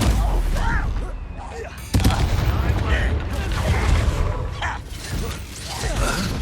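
Confringo fire spells blasting in the Hogwarts Legacy video game, a dense run of sharp crackling bursts and mechanical rattles layered over game noise, with a voice shouting in between.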